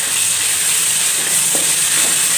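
Ginger garlic paste sizzles steadily in a hot pan of oil for a curry with taro root and dried fish, giving a loud, continuous hiss and crackle close by.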